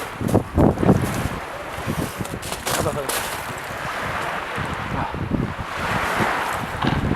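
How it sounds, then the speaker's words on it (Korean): Strong waves wash against the seashore at Jebudo island while wind buffets the microphone in steady gusts, with voices talking over the surf. "파도가 세 보여."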